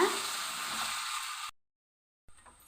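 Chopped onion sautéing in hot oil with popped mustard seeds, a close loud sizzle and hiss for about a second and a half, then sudden silence before a faint return of frying.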